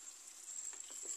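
A pot of green mung beans boiling in about a liter of water, giving a steady bubbling sizzle with a faint high hiss and no talking.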